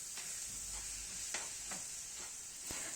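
A spoon stirs sour cream into a thick chicken filling for stuffed thin pancakes, soft wet scraping strokes repeating every half second or so over a steady faint kitchen hiss, no voices.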